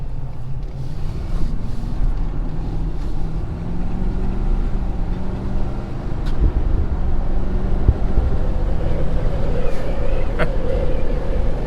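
A 2020 Ford Super Duty full-size pickup truck cruising with no trailer hooked up, giving a steady low engine and road drone with wind noise throughout, heard from inside the cab.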